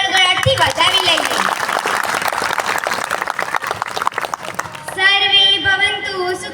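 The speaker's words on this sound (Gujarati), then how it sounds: "આપણે બધા જ આ વડીલોને એક સાથે તાળીઓના ગડગડાટથી વધાવી લઈએ" An audience claps in welcome for elders at a gathering, a steady wash of applause filling the space, with a brief voice or music-like tones near the end.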